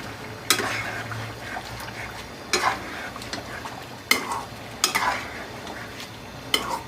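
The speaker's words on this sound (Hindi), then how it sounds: "अब इसे थोड़ा सा मिक्स कर लें।" Chicken karahi is stirred in a pot with a spoon, giving repeated scraping strokes against the metal over a soft, steady sizzle of frying.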